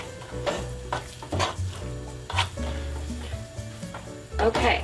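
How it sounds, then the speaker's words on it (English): Dirt playdough mixture stirred in a non-stick skillet over medium heat, with repeated scraping and stirring strokes against the pan over a low sizzle, with background music underneath. "we're just going to stir it in the skillet over medium heat"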